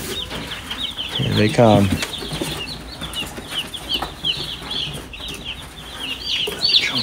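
A batch of 100 newly hatched Cornish cross meat chicks peep in a dense, continuous high chorus nearby, and a person speaks briefly over them.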